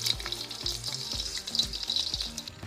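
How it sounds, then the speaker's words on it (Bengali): Chicken pakoras deep-fry in a pan of oil with a soft, steady sizzle and light bubbling crackle, fairly quiet and close, without speech. "পকোড়াগুলো লাল লাল করে ভাজা হয়ে গেছে"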